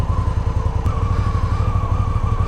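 A 2016 Victory Octane motorcycle engine runs steadily up close, its low throbbing exhaust note holding even and loud with no voices over it.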